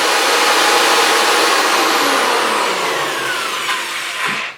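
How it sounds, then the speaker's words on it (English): An electric drill runs with no load, a loud, steady high-pitched whir that holds even, then winds down and stops near the end. "the wattage that this drill would use would be quite a bit higher if you were actually doing work with it"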